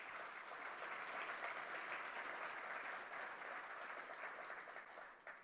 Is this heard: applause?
yes